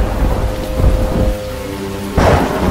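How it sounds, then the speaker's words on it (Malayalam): Heavy rain pours down steadily during a flood, with loud rolling thunder rumbling near and a fresh crack of thunder bursting out near the end, no voices present. "എങ്ങും തോരാത്ത മഴ."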